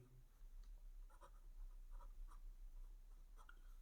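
Chalk or marker taps and strokes on a board in a classroom, faint, short scratchy marks in an irregular rhythm over a quiet low hum.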